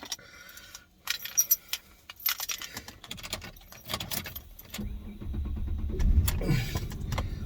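Keys jangle and clink up close inside a car, followed by the low rumble of the engine and a mechanical shift as the car is switched off.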